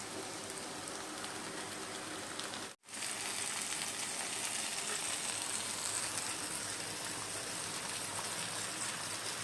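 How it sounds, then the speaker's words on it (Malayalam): Black tea boils in a pot, a steady hissing, bubbling and sizzling wash that runs on at an even level, broken once by a brief dropout near the start, with no talk. "അപ്പുറത്ത് ചായ തിളക്കുന്നുണ്ട്."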